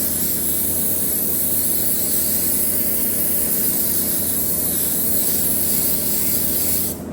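Air blows steadily from a paint spray gun loaded with yellow paint, a loud, close, unbroken hiss lasting the whole stretch, with no talking.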